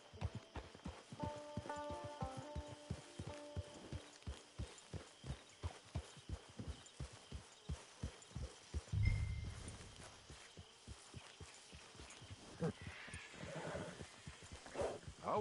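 Horse hooves clip-clop steadily in a video game, a regular walking rhythm of close, distinct strikes running throughout, with a brief louder thump midway and faint ambient tones behind.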